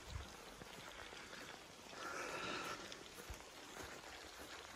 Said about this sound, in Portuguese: E a chuva começou.